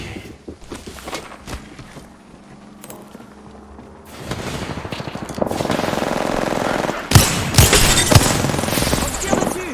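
Gunfire in the battle game Apex Legends: bursts of automatic weapon fire and loud shots that build into sustained, heavy shooting and explosions, close and intense, with game voices and effects mixed in.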